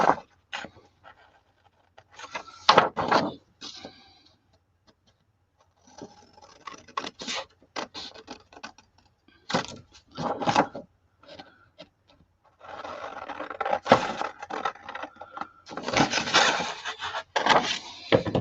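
Material for a handmade mini album is cut at an angle in short, close scraping and snipping bursts separated by quiet gaps, growing busier toward the end.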